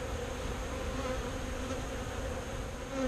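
Dense, continuous buzzing of many honeybees close by in a top bar hive, a steady droning hum with no talking.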